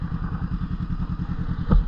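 Engine of a 2022 Honda CBR500R two-cylinder motorcycle running steadily with a rapid, even low pulsing idle, close and fairly loud, with a brief thud near the end.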